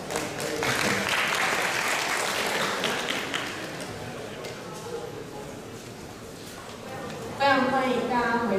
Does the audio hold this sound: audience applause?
yes